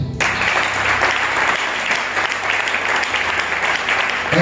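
A church congregation applauds during a French-language worship service, steady dense clapping from a crowd filling the room throughout, with no talk over it.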